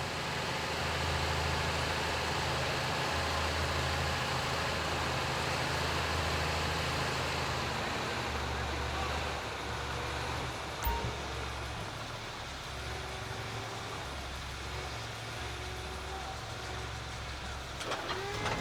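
A heavy machinery vehicle in GTA V keeps a steady low engine drone throughout, fairly quiet and constant, with a faint mechanical clunk midway and a slight drop in level toward the end.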